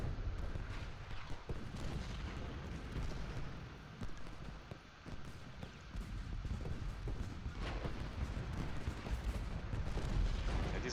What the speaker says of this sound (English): I'm not worried about the cannon fire they're getting.